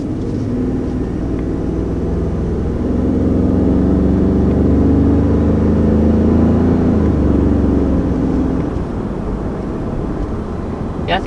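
A 2019 Ford Expedition Max SUV engine rumbles deep and steady close by, building slightly in intensity midway as it accelerates, with a low, throaty drone throughout and no talking.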